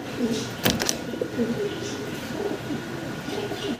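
Fancy pigeons coo in low, burbling phrases close up, the murmuring calls running steadily beneath someone speaking, with a brief sharp knock early on.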